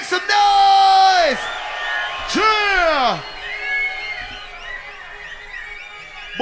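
A club crowd at a drum and bass night whoops, yells and bellows loudly in two big rising-and-falling swells, then settles into a steadier roar of cheering and general noise.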